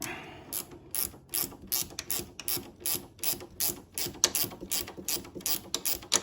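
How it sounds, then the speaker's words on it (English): Ratchet wrench tightening a 10 mm metric bolt on an Arctic Cat snowmobile while fitting Ski-Doo ice scratchers, a rapid series of close, crisp clicking strokes in a regular rhythm. "We're going to tighten that up with a 10 mil."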